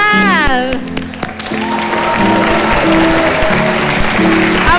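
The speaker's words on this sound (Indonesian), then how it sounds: "Kita undang dengan tepuk tangan yang meriah Menteri Koperasi dan UKM Pak Syarif Hasan." Studio audience applause greets a government minister on a morning television program, a steady wash of clapping under a voice and some music-like tones, fairly loud and continuous throughout.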